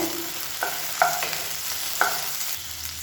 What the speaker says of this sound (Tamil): வரமிளகாய் சேர்த்துட்டு நல்லா வதக்கியாச்சு